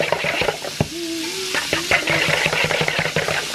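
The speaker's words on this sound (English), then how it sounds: "frying up a tenderloin from one of the deer" Deer tenderloin sizzling in a pan, a continuous frying crackle broken by clattering utensil knocks and stirring, with a brief higher tonal squeak partway through.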